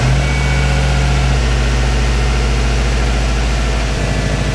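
A car engine runs steadily after an adjustment, with a loud, deep, even hum and low rumble heard up close, no squeal and no talking.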